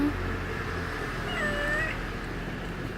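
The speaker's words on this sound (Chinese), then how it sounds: "猫" A cat meow from a touch-activated sound book plays as one drawn-out, rising-and-falling call over a steady background hiss, with no talking during it.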